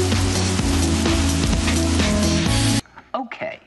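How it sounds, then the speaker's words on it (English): A rain effect showers down on a 4DX cinema audience, a loud, dense hiss of falling water over a low hum that cuts off abruptly, followed by a brief voice. "Rain effects shower down onto the audience."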